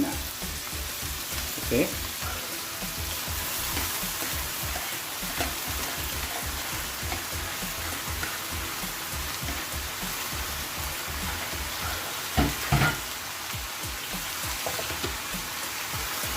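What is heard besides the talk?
taro leaves sizzling as they are added to the pan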